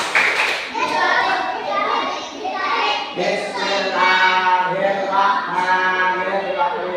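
A group of children chant the Indonesian "tepuk doa" prayer chant together in unison, clapping their hands in a steady rhythm along with the words.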